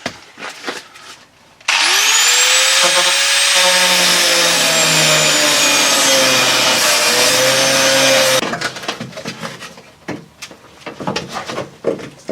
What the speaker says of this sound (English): so I'll have to lop it off with the grinder